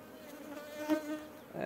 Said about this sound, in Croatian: pošto je košnica već puna pčela